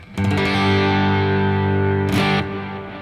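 Sustained electric guitar chords through the Neural DSP Archetype: Nolly plugin with a wet, spacious reverb tail, loud and alone, with a brighter strummed accent near the end before ringing out.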